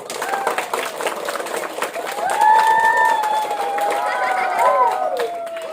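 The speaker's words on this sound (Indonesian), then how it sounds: "Ya, kasih aplaus dulu." A crowd of children and adults at a primary school ranking ceremony in Barru claps and cheers for a student placed in the class rankings. Steady broadband applause is mixed with shouted voices, swelling midway and holding loud to the end.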